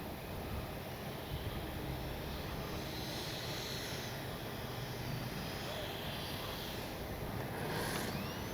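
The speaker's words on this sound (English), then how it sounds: "It's a great sounding plane" A HobbyKing Viper 64 RC jet plane flies overhead, its steady engine whine and rushing roar sustained throughout at moderate distance, with no talk.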